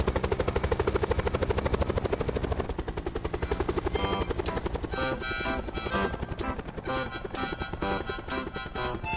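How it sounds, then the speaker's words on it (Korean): A helicopter in Call of Duty Black Ops 4 Blackout mode comes in to land. Its loud, fast rotor thumping pulses steadily, then blends with other game sounds as it settles. "자 헬기 착륙합니다"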